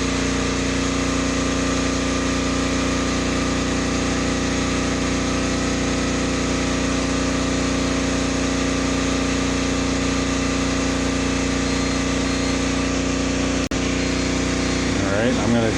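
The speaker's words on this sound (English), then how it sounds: "there's the load on the generator" Generator running under load while powering a house during storm prep, a loud, steady engine drone with a constant hum holding unchanged for the whole stretch, close by and unbroken.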